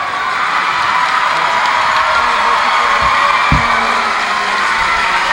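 A home crowd at a college basketball championship game cheers loudly and continuously, a dense roar of voices and whoops filling the arena.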